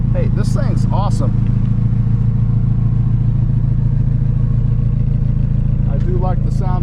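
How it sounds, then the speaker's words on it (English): A 1987 Porsche 944 Turbo sports car exhaust rumbles low and steady throughout, with someone talking over it at the start and end. "I do like the sound of the exhaust"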